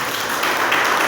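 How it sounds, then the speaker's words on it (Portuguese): A church congregation breaks into a round of applause, dense continuous clapping that fills the space evenly for about a second with no voices over it. "Vamos dar uma salva de palmas."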